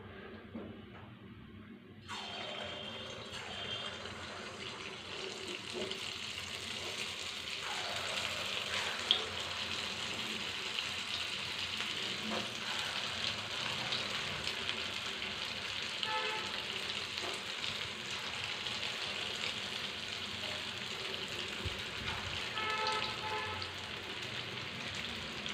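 Moong dal fritters (punugulu) sizzle and crackle in hot oil, a dense continuous frying hiss that starts abruptly after a short quiet moment, with faint stirring and clinks underneath.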